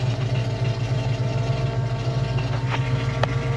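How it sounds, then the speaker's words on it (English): A truck's engine, fitted with a newly installed Pro Flo 4 fuel injection system, idles steadily at about 800 to 900 RPM with a smooth, continuous low rumble close to the microphone, with no speech over it. "It's idling about"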